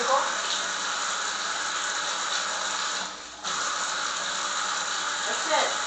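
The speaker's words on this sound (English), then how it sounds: "I'm going to sprinkle some water on top." Water splashes and trickles steadily, close by, while a spinach pie is sprinkled before baking in a Greek home kitchen, with a brief pause partway through.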